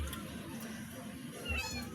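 A cat meows in a thin, rising call near the end, faint and somewhat distant over a low background rumble and soft ambient noise.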